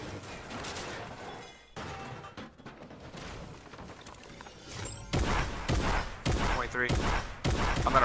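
Rapid bursts of gunfire and explosive blasts in the Fortnite video game, loud repeated volleys that intensify in the second half, with brief gaps between shots.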